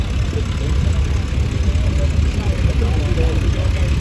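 Small replica of a vintage lorry called Vixen, built on a ride-on lawnmower with a 3.5cc engine, idling at a Shrewsbury steam rally. A loud, close, steady low engine drone is heard, with muffled voices in the background.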